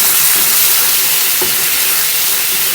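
Rice noodles for pad thai stir-fried in a pan give off a steady, loud sizzle and hiss that fills the whole moment, with a brief scrape of the utensil midway.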